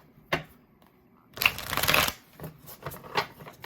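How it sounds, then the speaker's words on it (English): A brisk riffle of tarot cards being shuffled up close, a dense burst of papery flutter, followed by a few lighter taps and slides of cards. "So let's give it one more shuffle"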